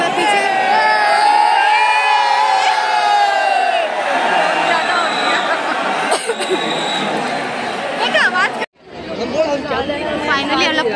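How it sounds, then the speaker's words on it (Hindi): A huge crowd packs a festival pandal, cheering, chanting and chattering in a loud, dense, constant roar with shouts rising above it. The noise cuts out briefly near the end, then the crowd's din returns. "गॉड, बहुत ज्यादा ही भीड़ है पंडाल के अंदर ना."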